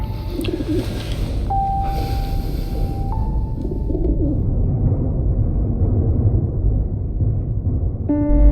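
In the video game 11-11: Memories Retold, a gravely injured bird coos softly over a steady low ambient rumble. A few sustained tonal calls come near the start, and another short call is heard at the very end.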